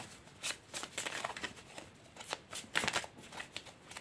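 A tarot card deck shuffled by hand, close repeated riffling bursts and soft card slaps in an uneven rhythm, fairly crisp and continuous with no speech over it.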